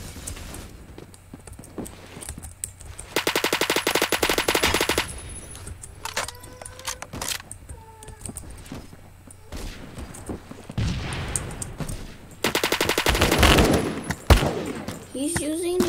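Automatic gunfire from an AK12 rifle in the Roblox shooter Phantom Forces: two loud, sustained rapid-fire bursts a few seconds each, separated by quieter game sounds and some talk.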